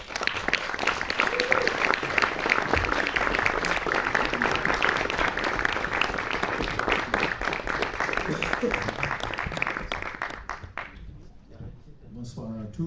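A cinema audience applauds to welcome a film director, a dense, sustained round of clapping from many hands for about ten seconds before it thins and fades into quiet room tone.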